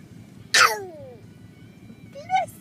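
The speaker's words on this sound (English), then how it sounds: "Did you get the sneezes?" Two sneezes, likely performed on purpose, stand out from low background noise: a loud, sharp burst near the start, then a shorter, higher and fainter one about two seconds later.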